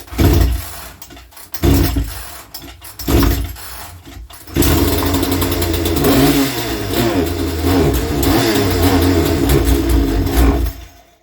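A McCulloch CS35 chainsaw sputters through several short pull-start bursts, then catches and runs continuously, revving loudly up and down with a rough, unsteady idle.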